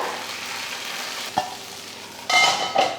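Batter poured into a hot oiled paniyaram pan, a soft steady sizzle with a small clack, then a sudden louder hissing burst of fresh frying near the end, no speech.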